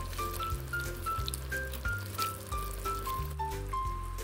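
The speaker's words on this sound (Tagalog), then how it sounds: "Siguro magdadagdag ako ng tubig kasi parang na-dry na siya." Water pours steadily into a pot of Filipino beef soup, nilagang baka, with a continuous trickling, liquid sound. It is close and moderately loud, and soft background music plays underneath.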